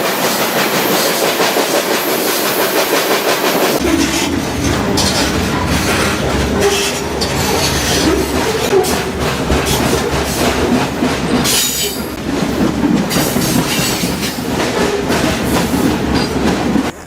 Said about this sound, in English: I gambled on this train.